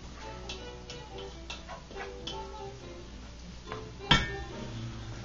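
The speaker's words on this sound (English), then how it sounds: "Stirring it up a little bit." A spoon ticks and clinks against a pan while cream pasta sauce is stirred, light irregular taps with one sharper clank near the end, close and fairly quiet with no talking.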